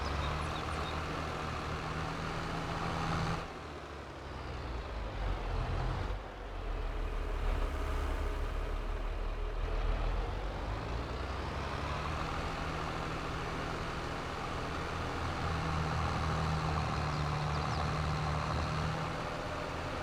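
A tractor engine in Farming Simulator 22 drones steadily at close range and holds a low rumble. The pitch dips and surges around a few gear or throttle changes before settling back into the constant drive.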